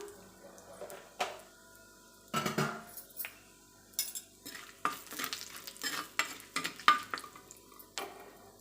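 Cinnamon, clove and cardamom frying in hot ghee in a pan, with quiet sizzling under repeated clinks and scrapes of a metal spoon stirring against the vessel, in intermittent bursts.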